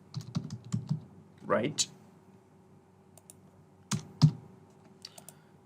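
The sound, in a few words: typing a hotel name on a computer keyboard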